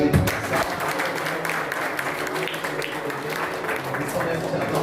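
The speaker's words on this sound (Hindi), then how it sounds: "हम सब मिलके ताली बजाते हुए" A church congregation at a Hindi praise and worship service claps together, a continuous, even wash of hands from many people, with voices faintly underneath.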